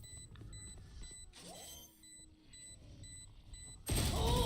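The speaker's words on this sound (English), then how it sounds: "Placing alarm bot." Killjoy's alarm bot being placed in Valorant, with a run of short repeated high electronic beeps over busy game noise, ending in a sudden loud burst.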